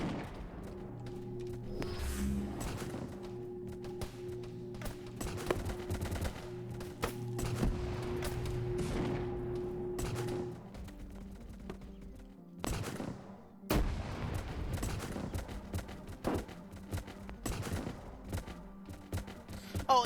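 Gunfire in the military video game Arma during a Mass Effect-themed mission: dense, continuous volleys of rapid shots and distant bursts, some closer cracks, filling the whole stretch with little pause.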